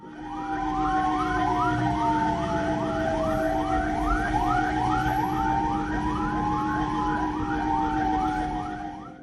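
An ambulance siren wails steadily on a road, its rising and falling tone repeating in a quick, even cycle. The sound is close and loud, with engine rumble underneath and no voices.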